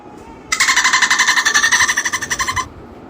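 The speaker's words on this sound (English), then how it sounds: "owl," Rapid, strongly pulsed trilling call attributed to an owl among a series of wild animal sounds, a loud continuous burst lasting about two seconds with no talk.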